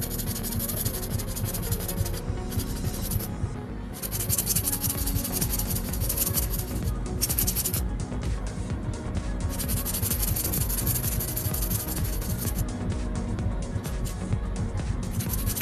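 An acrylic nail's C curve is filed and bevelled with continuous close scratchy rubbing strokes, steady and unbroken throughout at a moderate level.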